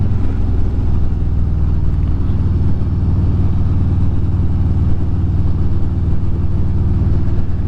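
A Harley-Davidson motorcycle engine drones steadily during a ride, a loud, continuous low rumble mixed with wind noise that holds evenly throughout with no talking.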